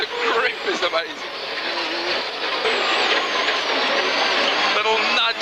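A 1997 Subaru Impreza S3 WRC rally car developed by Prodrive, driven on tarmac roads, its engine note rising and breaking as it slots through the gears at speed, with tire noise and commentary over it.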